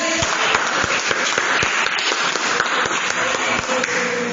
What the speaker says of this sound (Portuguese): Ao assentar, bate as palmas, exalta o Senhor Jesus.